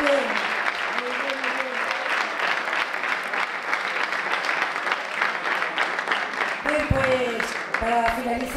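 Sustained applause from an audience at a procession band gathering in Cabeza del Buey, honoring a band, with a voice speaking over the steady clapping near the end.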